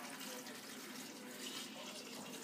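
Regular vinegar is poured into a container over eggs during egg lab prep, a continuous soft, splashy trickle that stays even and fairly quiet from start to finish.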